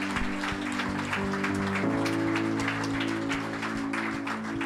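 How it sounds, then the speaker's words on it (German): A church congregation applauds, a sustained wash of clapping over held musical tones, steady and fairly full throughout. "Komm, wir geben doch diesen Menschen einen Applaus"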